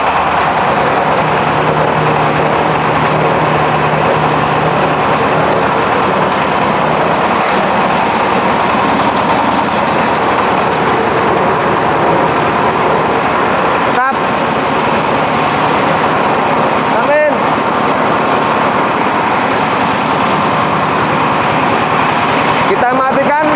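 An engine-powered meat grinder machine for meatballs running, a loud continuous engine drone with a rotating pan, steady throughout with a few brief clanks and some talking underneath.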